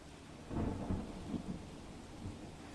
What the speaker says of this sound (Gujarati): વીજળીના કડાકા ભડાકા સાથે વરસાદની એન્ટ્રી થઈ છે